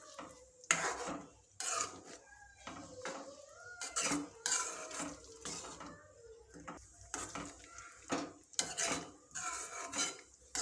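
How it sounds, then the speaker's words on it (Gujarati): Vegetable Maggi noodles being stirred and mixed in a pan, with a spoon scraping and clinking against the metal in repeated bursts, close and fairly quiet, with short pauses between strokes. "બરાબર મિક્સ કરશું।"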